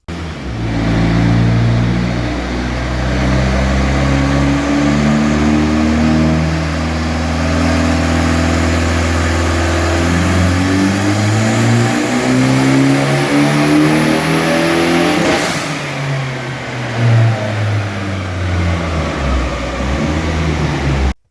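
A Mitsubishi Galant VR4 engine revving hard on a dyno after a plug change, running a loud, sustained power pull with rising pitch that drops briefly, then climbs again, alone and close.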